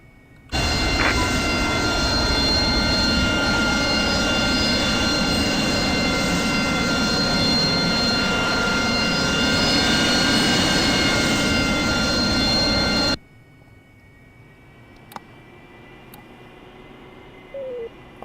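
Loud, steady roar of an AV-8B Harrier jet engine in a flight simulator game, holding for about thirteen seconds before cutting off abruptly, leaving a quiet, faint hum with a few small clicks.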